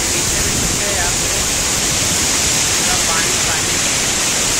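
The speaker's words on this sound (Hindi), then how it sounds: "यहाँ पे देख सकते हैं हवा बहुत अच्छा चल रहा है, ठंडा ठंडा" Seaside wind at Bandra Bandstand, Mumbai, a loud, steady roar of wind buffeting the microphone with a hiss of surf beneath, continuous and close throughout.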